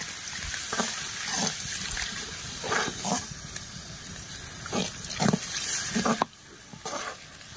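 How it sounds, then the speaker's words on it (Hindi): Water poured into a hot pan of cooking raw mango chutney with jaggery, cumin and chili sizzles and hisses in loud, repeated bursts that then drop to a quieter bubbling. "तो थोड़ा और पानी छोड़ देते हैं"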